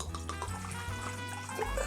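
Everclear grain alcohol is poured slowly into a measuring cup, giving a steady close liquid trickle and gurgle with a low hum underneath, and no one speaks.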